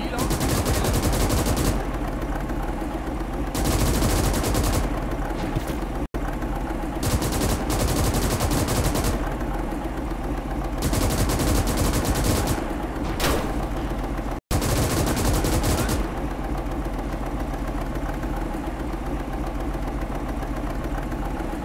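A vehicle-mounted machine gun fires in the WW2 video game Gates of Hell during a swamp battle, bursts of rapid gunfire over a constant engine rumble, loud and continuous, with someone talking throughout.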